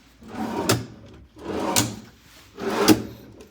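Desk drawers in a hotel room slide open and shut three times in a steady rhythm, each pass a close wooden rumble ending in a sharp knock.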